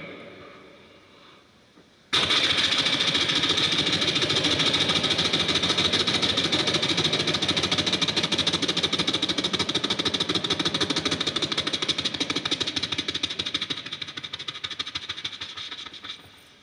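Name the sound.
voice imitating a helicopter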